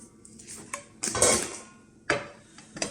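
Cheeses dropped into a Magic Cooker pot while making four-cheese pasta: a few close clattering knocks against metal, with a louder scrape and clunk in the middle and another sharp knock near the end.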